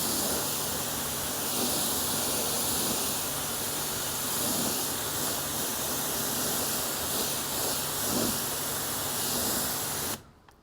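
Steady hissing water spray rinses a car wheel during a hand wash, loud and continuous for about ten seconds before cutting off abruptly.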